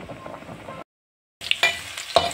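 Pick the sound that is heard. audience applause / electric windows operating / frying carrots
frying carrots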